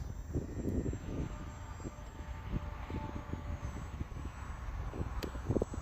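A Hobbyzone Aeroscout RC airplane flying outdoors, its small motor a steady, fairly distant drone beneath gusty wind noise and scattered bumps, with no talking.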